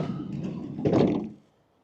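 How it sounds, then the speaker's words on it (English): Second sliding side door on a Renault Kangoo E-Tech electric van, one solid close thunk as the door slides and shuts, followed by silence. "You also have a second sliding door."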